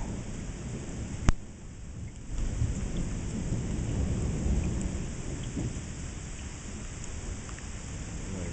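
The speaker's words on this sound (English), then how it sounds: "There's a lightning storm again." Steady rain pours down during a July lightning storm at home, with a sharp crack of thunder near the start and a low rumble continuing under the constant hiss of rainfall.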